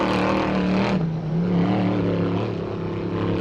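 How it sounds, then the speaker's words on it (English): An off-road race car engine bounces off its rev limiter at launch in a 4WP Every Man Challenge qualifying run, a loud buzzing, stuttering roar heard distantly through the whole burst. "You can hear him bounce the limiter as he hits the steel at launch"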